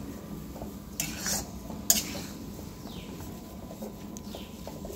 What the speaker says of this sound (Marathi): आपण याला छान मंद गॅसवर खमंग भाजून घेतले आहे पीठ